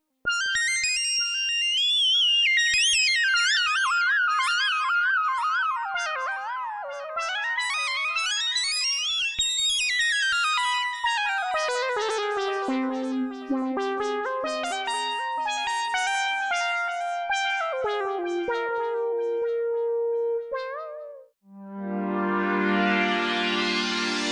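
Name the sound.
synthesizer solo patches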